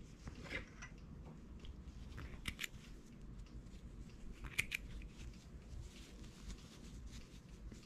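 Scissors snipping knitted yarn on a baby glove made by machine knitting, a few faint crisp snips over a quiet, noisy background, no one speaking.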